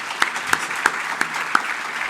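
Audience applause at a book event with a guest speaker, a steady wash of many hands clapping through the room, with a few sharper, louder claps standing out at an even pace over about two seconds.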